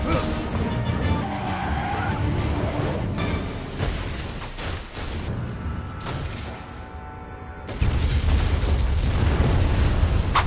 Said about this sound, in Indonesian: Untuk memastikan Brian benar-benar tewas, mereka kemudian meledakkan mobil itu.